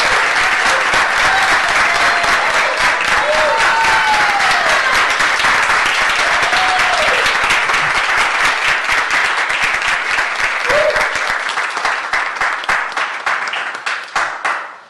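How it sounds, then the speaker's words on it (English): Long, loud round of applause in a city transportation committee meeting room honoring an employee's 30 years of service, dense clapping sustained for many seconds, with a few voices and cheers rising through it, then thinning into scattered claps. "I think that's a record-setting round of applause in this room."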